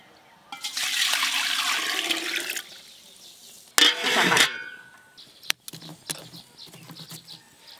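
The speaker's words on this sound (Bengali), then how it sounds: "হ্যাঁ জল দেবো।" Water gushes into a large cooking pot used for khichuri, a rushing pour lasting about two seconds, followed by a second short, loud splash and then a few light clanks.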